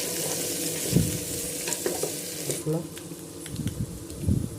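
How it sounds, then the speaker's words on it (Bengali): Rice lightly frying in a pan for a pegion pulao with prawns, giving a quiet, steady sizzle with occasional soft stirring scrapes and clicks, no talk. "চাল চালটা হালকা একটু ভেজে নিব প্রায় দুই তিন মিনিটের মতো করে"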